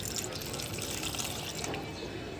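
Water pours onto a potted plant on a balcony, a soft steady splashing trickle for a couple of seconds.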